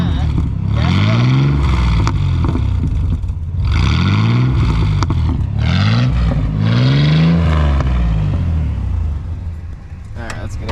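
A Chevy Blazer fitted with a Cherry Bomb muffler is revved in neutral in a busy Walmart parking lot, giving four loud, throaty rising-and-falling rev bursts up close before the engine settles lower near the end.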